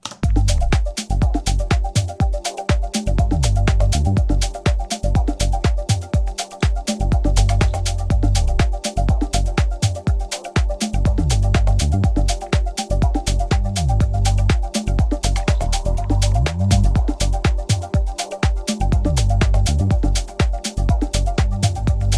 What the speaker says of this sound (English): Here I've added a bunch of different percussion sounds. And it's mostly bongo and congas.